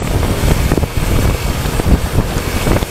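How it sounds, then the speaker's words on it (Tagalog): Strong gusting coastal wind on a zigzag road in Mariveles, Bataan buffets the microphone in a continuous loud roar, rising and falling in waves with no speech. "Malakas yung hangin dito kasi nasa gilid tayo ng coastal."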